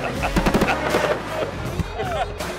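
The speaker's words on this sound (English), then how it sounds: "Fireworks to follow." Fireworks bursting after a college football game, a rapid crackling volley of sharp pops close by, with crowd noise and talking over the bangs.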